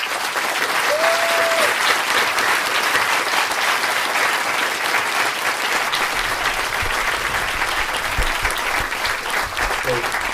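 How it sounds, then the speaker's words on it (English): Loud, sustained applause from a crowd at an annual UK family gathering, thick continuous clapping from start to end with a brief tone near the start and low voices murmuring beneath toward the close. "let's give a big round of applause for those wonderful brothers"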